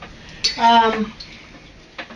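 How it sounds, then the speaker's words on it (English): A metal spoon clinks and scrapes inside a pot of country steak stew being stirred, one bright ringing clatter followed by a soft tap, close and otherwise quiet. "just get it all stirred in there"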